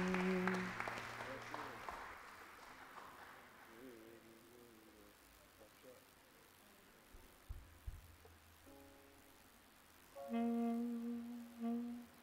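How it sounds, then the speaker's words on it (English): Congregation applause at a church service, a soft broadband patter of clapping spread through the room, fading under low murmurs before a brief musical swell. "Let's give her another round of applause."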